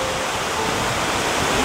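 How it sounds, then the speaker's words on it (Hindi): Vasudhara waterfall pours down from above in a dense, steady roar of falling water, loud and close, unbroken and with no voices. "देखो ये है वसुधारा और ऊपर से कैसे पानी गिर रहा है।"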